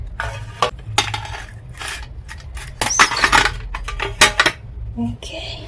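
Metal mold set down on a charcoal stove and covered with a lid, giving a string of close clattering metallic knocks and clinks.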